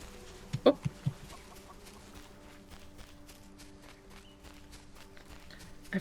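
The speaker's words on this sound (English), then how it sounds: "I forgot there were chickens over there I could trip on." Chickens clucking in a Solarpunk video game, a short burst of three or four clucks early on, then quiet footsteps ticking steadily underneath.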